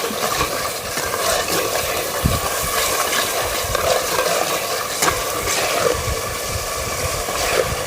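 Turmeric stirred into mutton curry masala frying in a pan, a continuous dense sizzle with scraping and stirring noises running steadily throughout.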